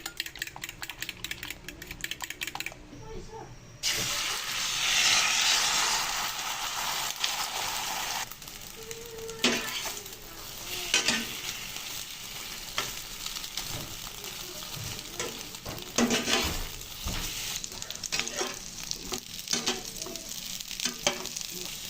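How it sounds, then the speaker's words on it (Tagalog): Garlic and onion sauté for corned beef after eggs and hotdog have been fried, giving a loud, steady sizzle with a brief pause, then stirring scrapes and utensil clinks over the frying in a home kitchen. "Ngayon naman, ginigisa ko naman itong bawang at sibuyas para sa aking corned beef."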